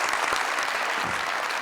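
A studio audience at a televised talk show claps steadily in a dense, even burst of applause, with no voices rising above it.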